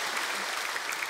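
A studio audience on a Serbian music competition show applauds a contestant, a steady, dense burst of clapping that fills the short moment on its own.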